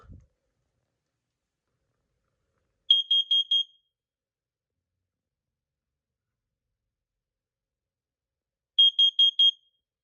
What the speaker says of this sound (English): we'll let this thing alarm in CO